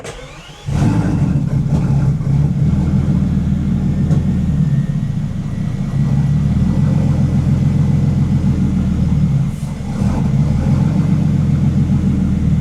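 Bentley engine being rebuilt, cranked and fired up: it catches after a short start and then runs with a loud, steady low rumble and slight rev changes, close by.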